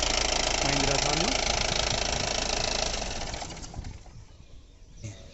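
A 2011 Mahindra Thar CRDe diesel engine idles nearby with a steady, loud rumble and clatter that fades after about three seconds, leaving quieter background noise.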